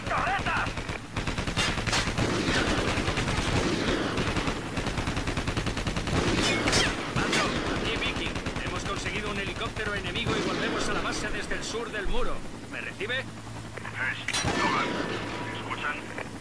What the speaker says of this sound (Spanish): Ahora, nos están linchando a tiros